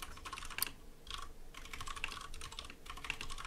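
Rapid clicking keystrokes on a computer keyboard while text is typed, coming in uneven bursts with brief pauses, close and fairly quiet, with no voices.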